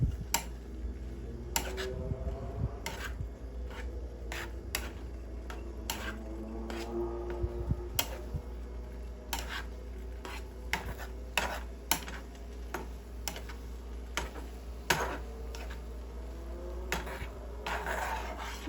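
Ramen noodles mixed in a bowl with chocolate and banana, a steady run of light clicks and utensil taps against the bowl over a low hum, close and fairly quiet with no talking.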